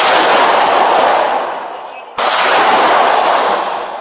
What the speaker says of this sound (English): Shots fired, put it over! Shots fired!